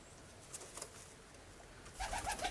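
Pigeons in a coop give soft, low coos near the end, with faint rustling and a couple of quiet taps earlier, all close and fairly quiet.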